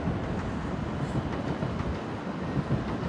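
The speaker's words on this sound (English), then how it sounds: "And there goes the bullet train, which we are going to be on." A Japanese bullet train passes with a steady, dense rushing rumble and faint rail clatter, loud and continuous without a break, and no voices heard.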